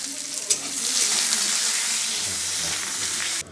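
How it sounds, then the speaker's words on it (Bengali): Thin slices of kohlrabi frying in hot oil, giving a steady, dense sizzle and hiss close by, with faint stirring clatter and no talk. "এবার এই ওলকপিগুলোকে আমি একটু হালকা লাল লাল করে ভেজে নেবো।"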